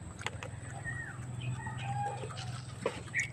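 Soft clucking from roosters, including a Texas-breed rooster, with other chickens nearby, steady low farmyard murmur and a few sharper calls.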